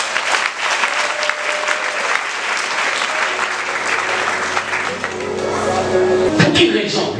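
A church congregation at a revival service applauds loudly and continuously, with dense clapping throughout, some cheering, and a pastor's voice heard over it toward the end.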